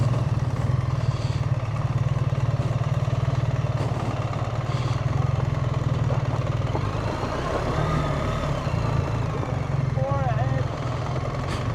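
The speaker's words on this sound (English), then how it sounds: "Just using the engine braking" BMW R1300 GS motorcycle engine braking while rolling down a steep off-road hill, a steady low drone running throughout under wind rush, with a few brief rising whines near the end.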